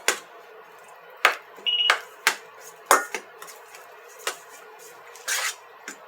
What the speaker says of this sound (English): now you want to go ahead and mix this all up real good